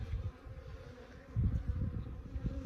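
Honey bees buzzing in a mass during a removal from under a shed floor in Arizona in February, a steady low drone that swells and thickens midway, close and continuous with no voices.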